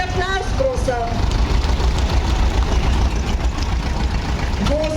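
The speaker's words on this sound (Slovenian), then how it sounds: "Vozi pa traktor Sameta in sicer od gospoda Marjana Pavliča." A vintage Same tractor engine runs at a farm festival, a steady low idling rumble under a crowd and a loudspeaker voice talking throughout.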